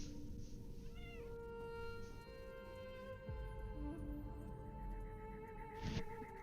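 A pet cat meows over a steady hum, with a couple of rising, pleading cries in the first seconds and another near the end.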